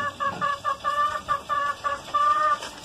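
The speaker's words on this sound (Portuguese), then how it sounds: "E o som natural das galinhas." Free-range chickens clucking in a quick, repeated rhythm, moderately close, with a soft background murmur.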